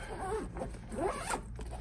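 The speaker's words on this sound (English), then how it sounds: "Zip it back up." A zipper on a Dunlop Srixon tennis backpack is drawn shut in a couple of quick rasping pulls, close and clear, with no talk.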